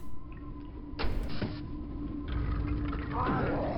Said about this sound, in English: Not the way I expected that door to open.